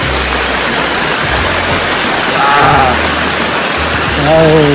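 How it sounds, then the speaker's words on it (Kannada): Steady, dense rush of heavy rain pouring down, with a few brief voice-like sounds rising over the downpour. "ತುಂಬ ಮಳೆ ಬರ್ತಾ ಇದೆ, ಹೆವಿ ಮಳೆ ಗೈಸ್."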